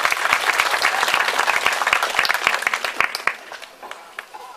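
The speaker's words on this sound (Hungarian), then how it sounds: "ők is megérdemelnek egy nagy tapsot" At a Hungarian village culture house opening in Levél, an audience applauds a group of accordion players with loud, close, dense clapping that thins into scattered individual claps before dying away.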